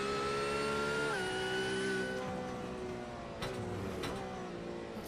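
GT3 Cup race car engine in a sim racing game at Daytona, loud sustained high-pitched engine note that drops as the driver lifts heavily off the throttle, with tones dipping and wavering near the end.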